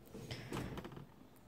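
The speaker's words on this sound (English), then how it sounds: "I need to slide this back and get in this drawer" Wooden drawer sliding open at a desk during a planner session, a brief scraping slide with a soft knock near the middle, close and fairly quiet.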